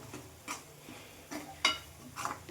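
A spoon stirring tomato, onion and egg masala in a pan: a few scattered scrapes and clinks against the metal, soft and close, with quiet gaps between strokes.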